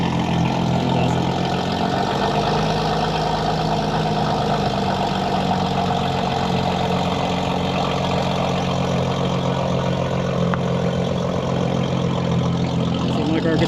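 A BMW G82 M4 with an aftermarket exhaust idles steadily and loudly for the whole stretch, with a deep low rumble and no clear revs.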